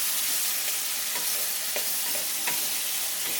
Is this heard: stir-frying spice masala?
yes